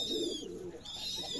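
Pet pigeons coo softly in a short, faint stretch, a low murmuring call from a loft with a faint higher chirp over it.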